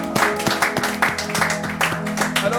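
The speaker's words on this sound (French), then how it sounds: "Applaudissez très très fort le Seigneur." A congregation claps loudly in a church service, a dense burst of applause with a roughly steady rhythm and music or voices mixed underneath.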